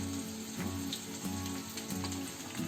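Dry red chillies crackling in well-heated oil in a pan for a tadka, a steady close sizzle with rhythmic bursts of frying, no talk.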